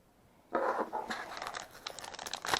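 Quiet at first, then a burst of crinkly tearing and crackling as tape is peeled from a doll's packaging, continuing in uneven ripples, close and fairly loud.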